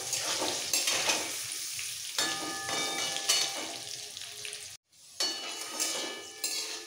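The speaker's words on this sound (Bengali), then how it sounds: "আলুটাকেও লাল করে ভেজে নেব।" Potato pieces fry in hot oil with a little salt and turmeric in a home kitchen while a fish roe curry is being made. A loud, steady crackling sizzle is broken by repeated scraping stirs and brief clinks of a spatula against the pan.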